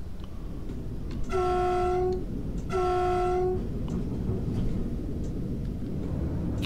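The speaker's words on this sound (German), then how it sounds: "Geben wir sicherheitshalber noch Warnsignale ab." Train horn warning signals sounded in Train Simulator Classic during a thunderstorm run, two loud sustained blasts of about a second each with a short gap, over steady rumbling rail and rain noise.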